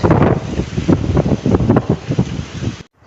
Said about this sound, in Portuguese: Ainda o vento está um pouquinho forte